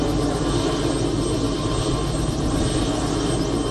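A Bell JetRanger 206 helicopter taking off from a house lawn fills the air with a loud, close, continuous rotor and turbine roar and rapid blade chop, with no talking.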